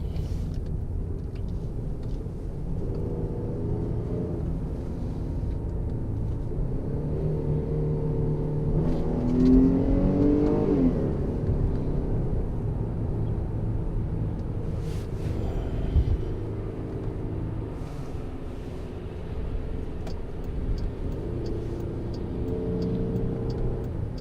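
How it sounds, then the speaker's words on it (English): A Jeep Grand Cherokee Overland cruising at highway speed gives a steady, moderate cabin rumble of road and engine noise, with a slight swell near the middle and no talking. "it'll give you an idea of how loud the car is on the highway"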